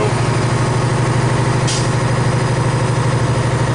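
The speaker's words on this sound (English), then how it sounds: "you're listening for your governor cutout" A parked truck's engine idles loudly and steadily while its air brake compressor governor cuts out, releasing one brief hiss of air blow-off midway through the clip.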